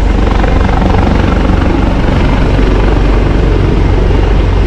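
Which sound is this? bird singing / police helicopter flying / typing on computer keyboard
police helicopter flying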